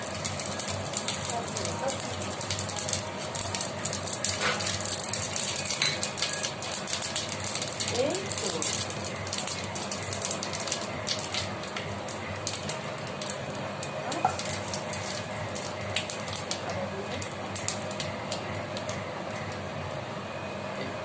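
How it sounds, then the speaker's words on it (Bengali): Dry chilli, bay leaf and cumin sizzle in hot oil, a steady fine crackle and hiss with occasional sharper pops, heard under a person talking. "এই আমি প্রথমে শুকনো লঙ্কা, তেজপাতা আর খানিকটা জিরে তেলের মধ্যে দিলাম।"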